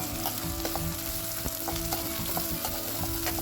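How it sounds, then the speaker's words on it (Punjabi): Onions frying in mustard oil with cumin seeds, a steady close sizzle with occasional stirring clicks and pops, no voices. "ਸਰੋਂ ਦਾ ਤੇਲ ਜੀਰਾ ਪਾ ਦਿੱਤਾ ਏ ਪਿਆਜ਼ ਤੇ ਆਪਾਂ ਥੋੜੀ ਦੇਰ ਇਹਨੂੰ ਪਿਆਜ਼ ਨੂੰ ਬਰਾਊਨ ਕਰਾਂਗੇ"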